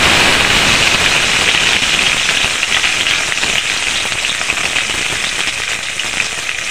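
Pre-cut okra sizzles and crackles steadily in hot mustard oil, a loud, dense, continuous frying hiss close to the pan with no talking.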